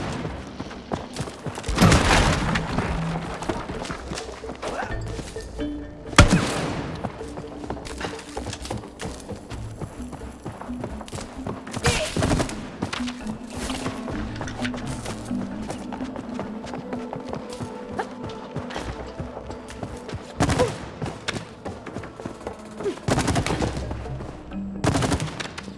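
Gunfire from the video game It Takes Two: bursts of rapid shots and sharp single blasts repeat across the scene over a busy game soundtrack, loud and close, with no one talking.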